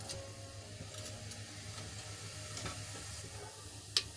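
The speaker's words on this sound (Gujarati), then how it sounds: "આપણું જીરું તેલમાં સંતળાઈ જાય" A soft, steady sizzle of cumin in hot oil, fairly quiet and continuous, with a sharp small click near the end.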